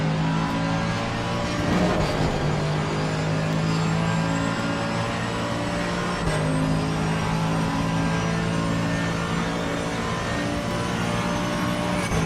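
A race car engine in the sim racing game Assetto Corsa Competizione at Paul Ricard holds a steady, loud, sustained drone at full throttle down a long straight, with no pause and no talk.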